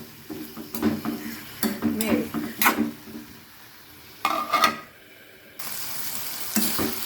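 A spoon stirs tempered radish in a hot pan, scraping in repeated close strokes over a gentle sizzle, with a metallic clink from the lid.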